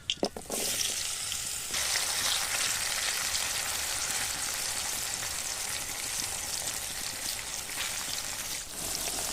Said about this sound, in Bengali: তেলটা সুন্দর গরম হয়ে গেছে, আমি এবার পটল দিয়ে দিচ্ছি